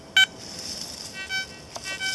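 A Garrett ATX metal detector gives a short, sharp electronic beep during an iron check outdoors, then a few fainter warbling tones follow against a quiet hiss.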